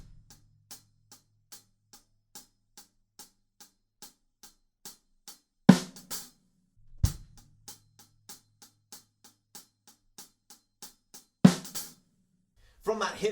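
A drum kit playing the bridge groove of a remix. Light, evenly spaced hi-hat ticks are broken by two loud, sharp accent hits, and a heavier hit lands near the end.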